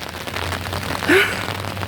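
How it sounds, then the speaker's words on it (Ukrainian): Light autumn rain falls as a soft, steady hiss of scattered drops, fairly faint and continuous, with no voices. "дощик."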